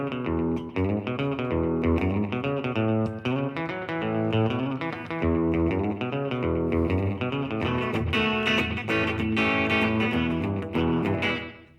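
An electric guitar played through an early-60s-style spring reverb rings out in a continuous, loud run of sustained chords and notes, with a slightly distorted, effects-laden tone and no pauses.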